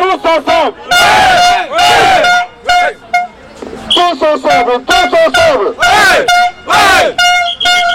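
A large crowd of protesters at a Schneider Electric site in Paris shouts and cheers in loud, surging bursts, with horn toots and chanting voices rising and falling throughout.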